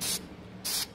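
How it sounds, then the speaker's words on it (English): Carburetor cleaner sprays through a jet from a Kawasaki KDX motorcycle carburetor in two short, sharp aerosol hisses separated by a brief pause, close and fairly loud with no voices. "spraying the cleaner through it"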